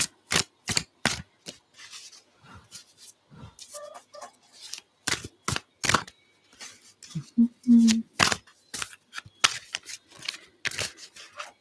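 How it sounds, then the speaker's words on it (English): Tarot cards are shuffled by hand in sharp, irregular bursts of riffling and snapping, close and crisp, separated by quiet pauses with a brief low voice murmur. "I will shuffle them for a bit."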